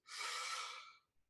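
One big breath drawn in before a speech, a single loud, airy inhale lasting about a second, close and alone, with a faint catch at the end.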